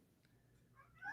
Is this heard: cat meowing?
yes